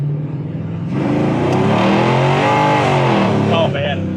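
A tuned 1970 Chevelle restomod engine revs up from a low idle into a loud, sustained rising growl held for about three seconds, with a voice talking over it.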